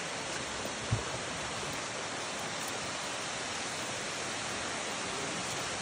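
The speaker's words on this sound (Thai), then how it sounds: "น้ำตกภูผาสวรรค์ครับ" The Phu Pha Sawan waterfall gives a steady broadband rush of falling water, constant and fairly close, with one brief thump early on.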